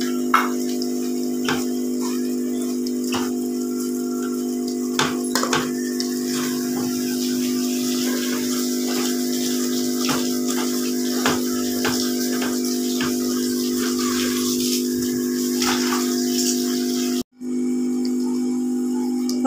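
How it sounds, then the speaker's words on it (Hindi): A pan of potato and fenugreek curry simmers steadily, with a continuous close bubbling hiss scattered with small pops and ticks, cut off briefly near the end. "पानी खुश्क होता जा रहा है"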